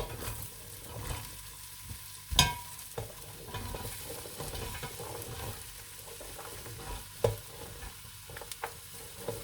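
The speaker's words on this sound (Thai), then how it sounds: "พัดไฟอ่อน ๆพัดจนหอมเละเลยจ้ะ" Shallots stir-fried slowly over low heat in a pan with curry powder for a chickpea curry, a steady soft sizzle broken by scraping spatula strokes and a few sharper clanks, close and alone with no talk.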